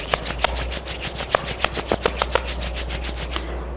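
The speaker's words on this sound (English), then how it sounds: "Join your palm. Rub your palm." Palms rubbing together briskly during a yoga practice, a fast regular swishing of skin on skin repeated about a dozen times close up, then stopping abruptly.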